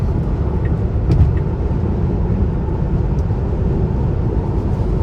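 Steady broadband road rumble from inside a car passing a truck on the road, a loud continuous drone with no voices.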